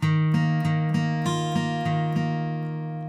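Acoustic guitar picked in a repeating arpeggio on the 4th, 3rd and 1st strings, from a song, with evenly spaced plucked notes ringing together over a sustained low root, close and clear with no talking.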